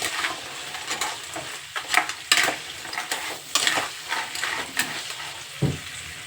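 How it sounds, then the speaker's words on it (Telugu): Crabs fry in a pan, a steady close sizzle with frequent scraping stir strokes and soft utensil knocks throughout, no voices. "ఫ్రై చేసుకుని కాసేపు ఫ్రై చేద్దాము"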